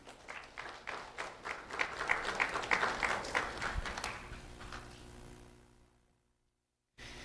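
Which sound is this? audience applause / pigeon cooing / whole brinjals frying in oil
audience applause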